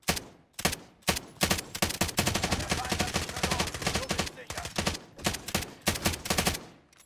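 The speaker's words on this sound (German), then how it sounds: "Er hat dich hier beschossen!" Rapid bursts of automatic gunfire in Call of Duty Warzone, loud and close, with dense volleys and short pauses between them over several seconds.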